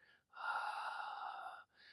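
Deep, steady breath during a gentle morning yoga session of hip openers, a long airy exhale of about a second and a half between shorter soft breaths, close and quiet with no talking.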